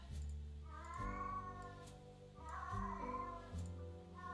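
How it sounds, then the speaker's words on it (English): A cat meows several times in a row, drawn-out and plaintive, close by and clear against a low hum. "He's meowing."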